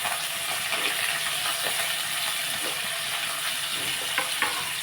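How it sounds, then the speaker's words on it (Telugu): Green chillies, onions and curry leaves frying in hot oil give a steady, loud sizzle throughout, with faint scraping stir sounds now and then and no talking. "ఇంకోటి ఆయిల్ వేసాను కదా ఇప్పుడు మనం పచ్చిమిర్చి ఉల్లిపాయలు కరివేపాకు"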